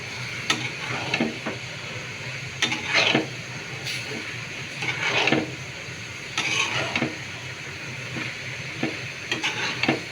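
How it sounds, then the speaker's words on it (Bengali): Ash gourd (chalkumra) curry with cinnamon powder, stirred in a pan over a low, constant sizzle, with a spoon scraping in short, irregular strokes every second or two, close and clear, no talking. "এবার শুধু নাড়বো"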